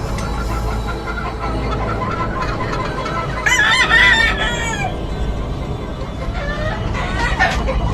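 Gamefowl roosters in rows of pens at a Sagupaan expo crow and cluck. One clear crow rises over a steady background of distant birds and crowd noise.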